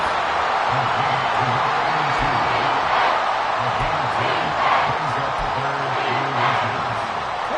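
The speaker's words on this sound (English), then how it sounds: "This crowd trying to force a false start here." Football stadium crowd roaring loudly and steadily on a third-and-inches play, a dense sustained wall of noise meant to force a false start, with a commentator talking over it.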